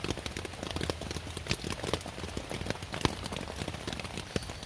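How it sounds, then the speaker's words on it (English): Heavy rain drums on a Luxe sil hexpeak V4 tent deep in the woods, a dense, close patter of drops with sharper irregular taps and no voices. "It's making me tired listening to the rain."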